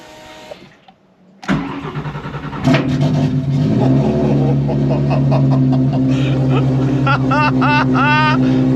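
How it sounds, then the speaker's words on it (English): A track-ready Mini Cooper S engine cranks and fires after a short quiet moment, then settles into a loud, steady, rumbling idle as it warms up, with a voice speaking briefly near the end. "So ignition, this thing goes on, foot on the brake, let it warm up a wee minute."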